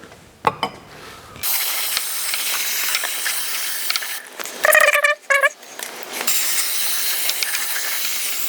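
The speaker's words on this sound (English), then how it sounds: "I will just give all this part a good clean with brake cleaner." Brake cleaner sprays onto Porsche 928 parts during a fuel filter replacement, a loud, steady, close aerosol hiss that runs for several seconds, breaks briefly around some light metallic clinks, then resumes.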